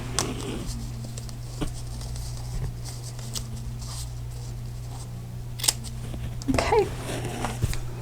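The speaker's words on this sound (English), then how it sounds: "I'll just come in with my scissors and just trim off the edges" Scissors trimming the tails of a ribbon on a paper craft project, a few small crisp snips scattered across a quiet room tone with faint handling rustle, close and soft.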